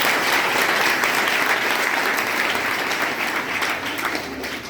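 An audience at a women's college event applauds together, producing a full, even burst of clapping that holds strongly and then softens slightly near the end.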